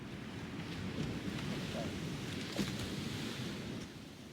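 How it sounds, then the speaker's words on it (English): Noisy water near a whisky distillery on Islay, a steady broad rush like surf or churning water close by, with faint voices in the background. "Very noisy, this water, isn't it, really?"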